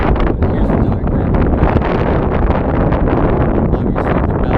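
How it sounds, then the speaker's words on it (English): Strong outdoor wind buffets the microphone in a loud, continuous roaring rumble with gusty surges throughout, drowning out everything else. "It's crazy windy, you guys."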